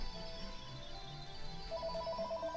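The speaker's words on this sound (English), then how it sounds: "okay, I guess I got a phone call" A phone ringtone for an incoming call: a faint repeating electronic beep pattern enters partway through over a steady background hum, soft and somewhat distant.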